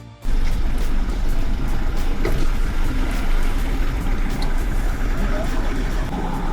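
Truck and stranded traffic at a flooded road in Borneo, a loud continuous rumble of engines with broadband noise and brief higher clunks, close by and steady throughout.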